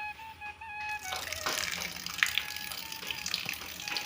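Water runs from a tap into a basin for washing potatoes, a soft splashing gush that starts after a brief tonal hum and continues faintly beside a voice.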